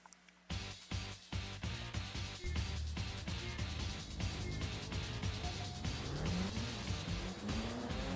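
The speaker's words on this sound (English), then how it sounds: "it does sound like more like a 4-cylinder, I guess, but at least it's a throaty one" Throaty four-cylinder car engine in Sega GT 2002 during a replay, roaring steadily and close with rising gear-change sweeps and a brief tire squeal toward the end.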